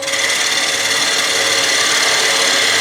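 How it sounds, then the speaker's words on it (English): A shallow fluted gouge takes light finishing cuts on a wooden bowl turning on a lathe, giving a steady, close, hissing scrape with no breaks. "I'm going to finish this off with a shallow fluted gouge"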